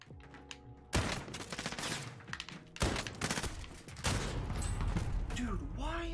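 Rapid gunfire bursts in Call of Duty video game, loud repeated shots in three dense volleys with brief gaps, sustained and close.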